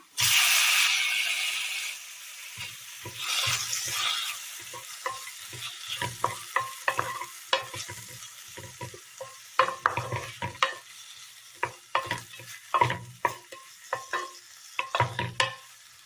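Vegetables sautéing in a pan with chopped tomato added, a loud sizzling hiss at first that settles into repeated scraping and stirring clatters of a spoon against the pan, with no talking.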